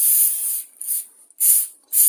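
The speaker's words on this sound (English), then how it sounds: "So just same thing here, just give it a spray down" A trigger spray bottle of cleaner mists an old lawn mower in four close, loud hissing bursts of under a second each, separated by short gaps, with no talking.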